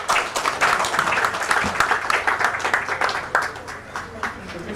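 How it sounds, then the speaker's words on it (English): Audience applause at an AI forum session, a dense clapping wash with a few sharper individual claps, gradually thinning toward the end. "Another round of applause for us."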